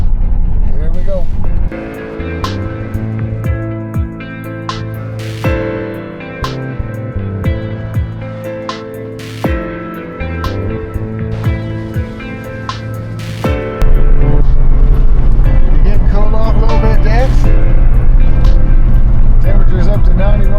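A truck drives on a hot day with its windows open. Steady road and engine rumble fills the clip, with wind buffeting and music or voices on top, and the noise grows louder near the end.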